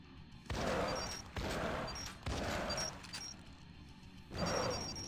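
Shotgun blasts from the Arcade Paradise video game, four loud bursts in an uneven rhythm, each a sharp crack with a rolling tail, with small clinking sounds in between.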